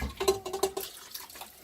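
Cooked rice and water are poured from a pan into a colander in a sink, giving a short, uneven gush with splashes and a few light metallic clinks. The sound is fairly quiet and close, with no talking.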